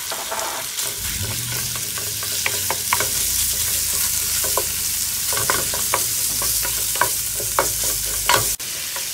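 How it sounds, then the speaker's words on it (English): Ground pork stir-fries with golden-browned ginger in a hot pan, a loud continuous sizzle punctuated by frequent spatula clacks and scrapes, heard up close with no speech. "go ahead and add in your ground pork and stir it."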